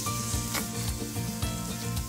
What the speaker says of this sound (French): je peux utiliser ma poêle pour griller ma viande